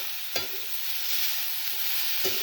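Bitter gourd sautéing in a pan for a village-style Maharashtrian dish, a steady broadband sizzle with two sharp stirring scrapes near the start and end, close and alone.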